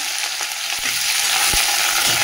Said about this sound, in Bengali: এর মধ্যে যে কালো জিরে ফোড়ন দিচ্ছি, একটা শুকনো লঙ্কা, তেজপাতা দিয়ে পেঁয়াজ দিয়ে দিলাম।